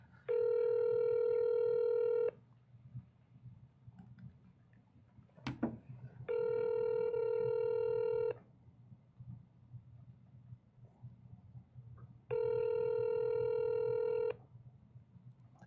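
Three separate bursts of telephone dialing tones, each about two seconds long, sound over a low background hum while a call is placed to return a missed call from 2018. A brief click falls between the first two bursts.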